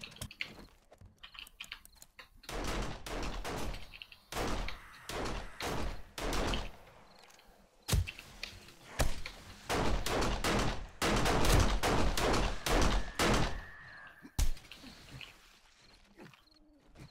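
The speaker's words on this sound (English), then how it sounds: "I hear gunfire." Bursts of rapid gunfire crackle in several loud volleys separated by short quiet gaps, with scattered single shots between, in 7 Days to Die Alpha 16.4 multiplayer.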